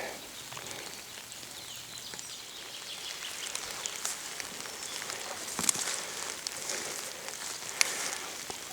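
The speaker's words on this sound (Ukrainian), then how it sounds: "Ось така краса, йдуть дощі, начебто не дуже і тепло." Rain falls outdoors in a rural landscape, a steady soft hiss of drops with occasional louder drips and taps nearby. No voices can be heard.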